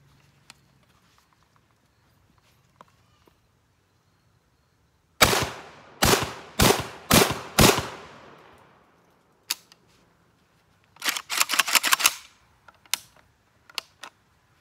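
A JTS M12 AK airsoft rifle fires its first shots in loud, sharp cracks, a burst of four or five quick shots followed by a faster rapid string, with scattered faint clicks between.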